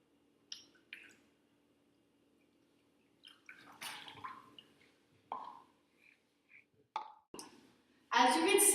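Hot and cold water are poured together into opposite sides of a container, preceded by scattered faint drips and clicks, then ending in a loud, rushing splash of pouring water.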